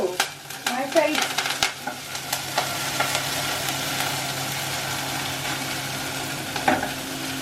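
Vegetables frying in hot oil, a continuous close sizzle with a few louder crackles and utensil clicks early on, settling into an even hiss, no talk.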